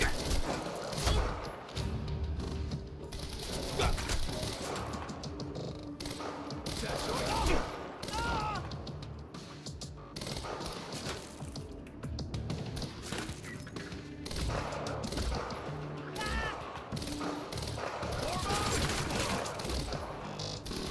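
Gunfire in the video game Quantum Break, dense, chaotic shooting mixed with impacts and crashes throughout, with a voice faintly heard under the din.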